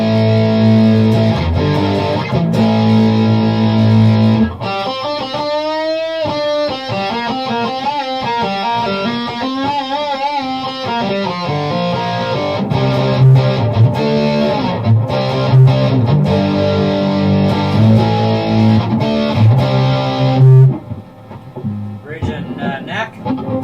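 Electric guitar, a Cort X2 Les Paul-style with a Zebra Alnico V humbucker, played through an Outlaw Widowmaker distortion pedal: thick, sustained distorted chords and bends, loud and continuous, ending in a brief pause and a few scraped notes.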